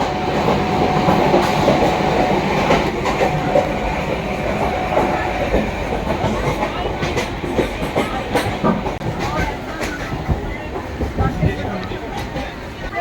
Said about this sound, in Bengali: ট্রেন ছুটে চলেছে দুরন্ত এক্সপ্রেস